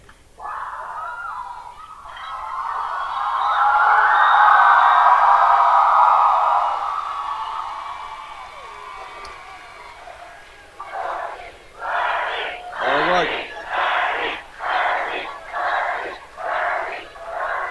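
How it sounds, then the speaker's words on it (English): A large, raucous crowd at a Bernie Sanders rally in Reading roars and cheers in a long swelling wave, then breaks into rhythmic chanting bursts, loud and near with no clear talk. "This is a large, loud, raucous crowd, kind of crowds I like."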